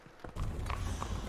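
Horse hooves clip-clop at a steady walking pace in the Sherlock Holmes: The Awakened video game, a soft rhythmic clatter set against a dense ambient background.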